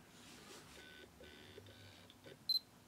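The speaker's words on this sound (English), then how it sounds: "got a beep, that could confirm when it's achieved autofocus" Autofocus confirmation beep from a Canon EOS 1, the first professional EF-mount 35mm SLR, sounding as a short double high-pitched chirp near the end after quiet handling noise.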